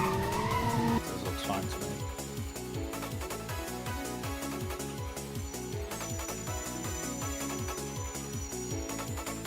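Steady, loud squealing of car tires with brakes locked in a racing video game, over a rhythmic pulsing engine drone that continues throughout.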